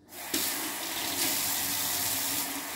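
A kitchen tap runs water over tomatoes, making a steady, close hiss of flowing and splashing water that starts abruptly and continues throughout.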